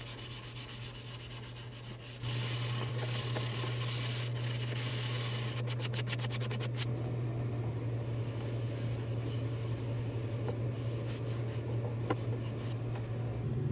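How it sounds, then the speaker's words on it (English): Steady, rasping hand sanding of a shellac finish with 320-grit sandpaper continues throughout, a fine scratchy rubbing over a low constant hum. "I'm going to rinse and repeat with another round of 320 grit sanding"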